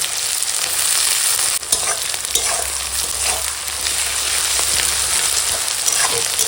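Chopped onion and green chilli frying with bay leaf and whole garam masala in hot oil, a loud steady sizzle broken by occasional stirring scrapes, with no talk.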